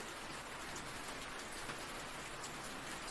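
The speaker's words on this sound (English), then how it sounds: "Outside, the storm continued its symphony: rain, wind, thunder, the creak and groan of the forest." Steady rain falls outside a cabin during a storm, an even, continuous hiss of drops on surfaces filling the whole stretch at a constant moderate level, with no voices.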